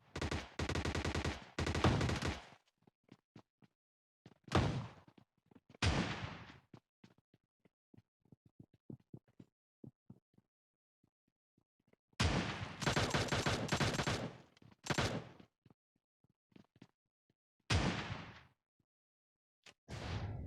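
Gunfire in PUBG Mobile Lite during a shotgun challenge: loud bursts of rapid automatic fire and heavy blasts, separated by stretches of near silence and scattered single shots.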